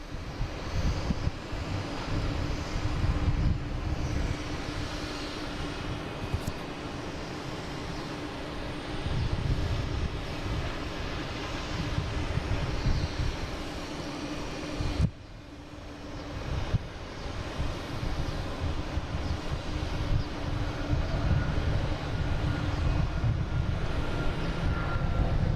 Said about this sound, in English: Now we have United Airlines heading to San Francisco at 737 MAX 9,